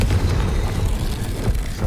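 Deep rumbling boom of the Confringo fire-blast spell in Hogwarts Legacy, a loud, sustained low-heavy burst lasting under two seconds with no voices.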